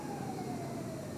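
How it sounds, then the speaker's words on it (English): An emergency truck's siren wails steadily in the background at a NASCAR street race, a sustained tone drifting slightly downward over a constant rumble, with no talking. "you may hear that siren in the background"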